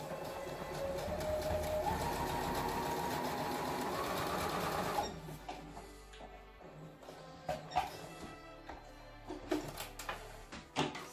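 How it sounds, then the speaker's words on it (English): A sewing machine zigzag-stitches fabric for an angel wing flag, running loud and steady for about five seconds, then dropping to a quieter hum with scattered clicks and bumps of handling. "I'm going to do a zigzag and then a straight stitch."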